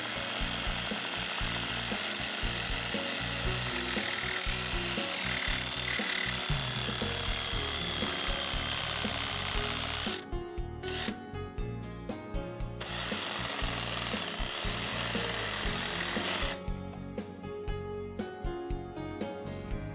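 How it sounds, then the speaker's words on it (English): A reciprocating saw cutting a brass wedge out of a fire hydrant outlet, a loud continuous rattling, buzzing grind that breaks into short stuttering bursts twice before resuming. "remove the brass wedge by using a reciprocating saw"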